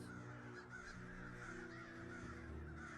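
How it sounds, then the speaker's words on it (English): A crow caws in a series of harsh, repeated calls that sound somewhat distant, set over a steady low background hum with no talking. "you hear a crow call in the distance"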